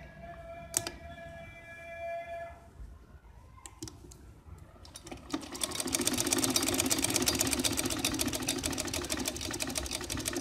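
Sewing machine stitching lace onto a boutique-style neckline, a few brief starts and clicks at first, then a steady rapid close-up whirring run of stitches through the second half.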